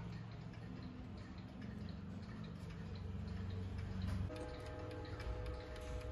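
An antique French Vedette clock with a brass movement ticks steadily and evenly, the soft, quiet beats repeating alone without any voices.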